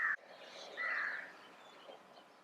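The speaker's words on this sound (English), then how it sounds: "Hundreds of thousands of birds flying in the same direction." A huge flock of birds flies overhead in Sri Lanka, with faint, distant crow-like caws and calls, one short louder call at the start, and no talking.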